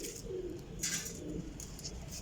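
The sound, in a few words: cross-bred performance pigeons cooing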